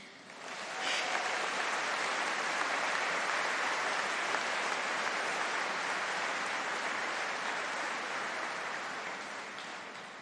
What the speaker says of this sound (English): let's honor this journey with a grand round of applause